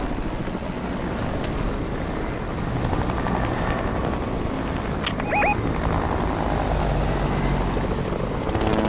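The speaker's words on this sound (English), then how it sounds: "Right there, that chopper's here." A helicopter flies in a video game, its rotor drone steady, loud and continuous throughout, with a brief electronic beep partway through.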